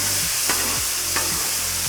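Steak sizzling on a Blackstone griddle next to crisping rice, a steady loud hiss throughout, broken by a few soft scrapes as the meat is pushed across the flat top.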